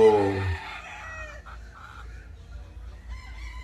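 A rooster crows loudly and close at the start, one strong harmonic call fading after about half a second into quiet farmyard background.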